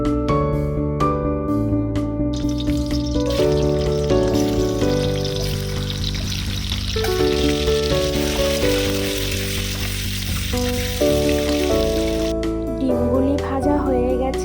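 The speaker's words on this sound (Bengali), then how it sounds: "প্রথমে ডিমগুলি ভালো করে ভেজে নিবে।" Eggs frying in hot oil, a loud continuous sizzle with crackling bursts running the whole time alongside background music.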